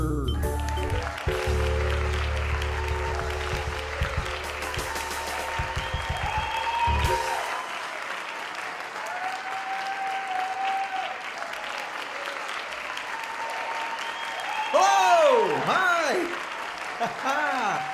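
A studio audience breaks into sustained, dense applause to welcome a show host. It is loud and steady for most of the stretch, then thins out, with musical tones and an electronic sweep layered over the clapping.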